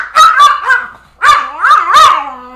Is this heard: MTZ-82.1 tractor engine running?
no